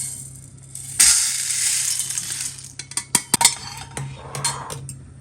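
Roasted urad dal tipped from a pan onto a plate: a brief rushing pour of grains followed by a series of sharp metallic clinks and scrapes of a spoon, close and fairly loud.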